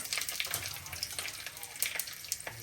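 Mustard seeds, dried red chilies and a bay leaf sizzling in hot oil in a home kitchen, a steady soft crackle with scattered sharp pops, fairly quiet and close.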